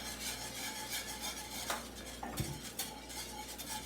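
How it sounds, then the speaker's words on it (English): Whisk scraping and clinking in a bowl while mixing a sauce with salt, pepper and Italian seasoning, a steady close rhythmic stirring with a few louder taps against the bowl's side. "We're going to whisk this up a little bit"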